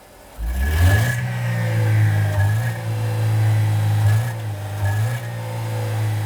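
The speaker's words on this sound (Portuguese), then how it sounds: "Chico, acelera o carro aí, por favor." Car engine being revved hard during a sensor diagnostic, surging from idle into a loud sustained roar that holds high, dips briefly and climbs again.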